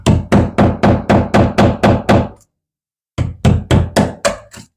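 A hammer drives a small screwdriver into brick to chip it away, giving loud, close, evenly spaced metallic strikes, a run of about nine blows, a short pause, then six more.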